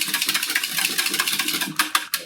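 A whisk clatters rapidly against a bowl while eggs with weak shells are beaten, a steady fast rattling rhythm with a few sharper knocks near the end.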